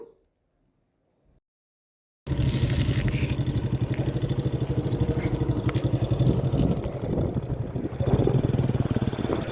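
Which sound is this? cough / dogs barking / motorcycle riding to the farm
motorcycle riding to the farm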